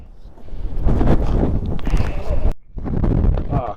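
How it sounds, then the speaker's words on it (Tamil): Strong wind roars and buffets the microphone at a cold high mountain pass on the Srinagar to Lamayuru road, a dense steady rush that drops out briefly near the end before surging again. "காற்று பயங்கரமாக அடிக்குது."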